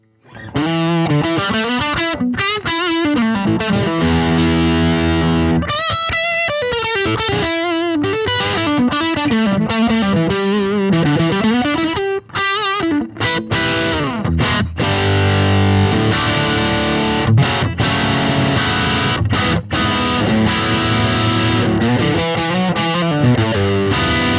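Loud, driven electric guitar through a Kemper Kone speaker emulating a Jensen speaker plays busy riffs and sustained chords for an extended stretch, with a boxy, mid-heavy tone and no talking.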